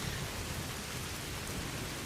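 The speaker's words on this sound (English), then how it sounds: "Doesn't help that this rain is dulling some senses." Heavy rain pelting down in a steady, dense wash of noise, constant and loud with no voices.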